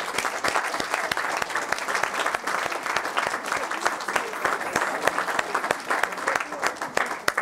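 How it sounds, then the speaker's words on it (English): Warm applause from a school assembly for its cross-country runners, many hands clapping continuously and loudly for several seconds, with sharp individual claps standing out above the crowd noise and some murmuring voices beneath. "could all the cross-country runners just stand up and get a round of applause"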